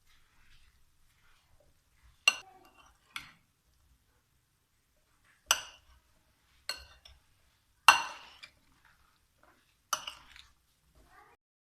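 Sparse spoon clinks against a pot while tamarind and spices are mixed into cholay, six or seven sharp taps spaced out over near silence.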